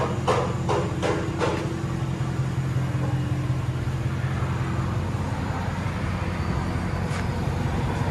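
2015 Dodge Charger R/T with the 5.7L HEMI V8 and dual exhaust fitted with glass packs, a steady deep burbling rumble heard from inside the cabin, with a few sharp knocks near the start.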